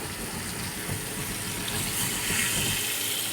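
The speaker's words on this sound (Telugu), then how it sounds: "ఇప్పుడు పులుసు పోసుకుంటున్నాం చింత పులుసు" Tamarind juice pours steadily into a pot for a fish curry, a continuous close splashing, gurgling rush of liquid with no speech.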